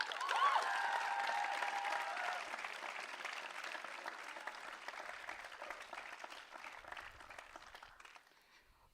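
A closing ceremony audience breaks into dense applause, loud at first and slowly thinning as the clapping tapers off toward the end, with faint crowd murmur beneath.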